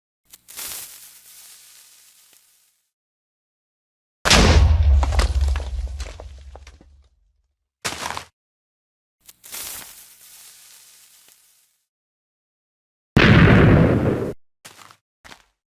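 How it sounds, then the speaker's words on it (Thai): Several separate bursts of Minecraft sound effects, including one loud, booming explosion with a deep rumble, separated by silences. "เสียงระเบิด"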